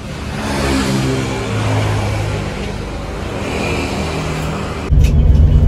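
A Sari Harum Scania coach engine pulls away steadily, its low drone rising and swelling as it accelerates, nearby and loud, with a heavier surge of rumble near the end.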